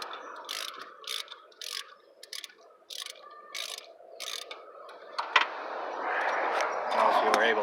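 A wrench loosens a front brake caliper bolt on a 2006 PT Cruiser with a series of rhythmic ratcheting clicks, followed by a continuous rougher mechanical rasp, all close by.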